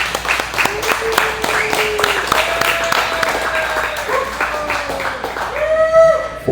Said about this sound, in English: So I think we should all give ourselves a round of applause for that.